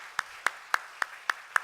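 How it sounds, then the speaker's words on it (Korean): Six slow, evenly spaced claps ring out close by in a church congregation at an afternoon worship service, each a crisp isolated snap with quiet gaps between. "드림 목장과 두드림 목장을 위해서 다시 한 번 더 우리 격려의 박수 해주셨으면 좋겠습니다."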